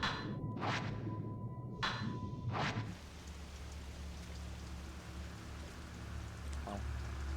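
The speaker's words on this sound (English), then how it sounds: "In this fucking rain." Steady rain hisses across a broad band in the Fatal Frame 5: Maiden of Black Water video game, with a few sharp whooshing swipes in the first seconds before the downpour continues alone at an even, moderate level.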